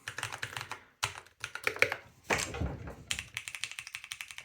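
Typing on a Keychron Q1 Pro keyboard with brown switches: close, crisp clusters of keystrokes in quick bursts separated by short pauses.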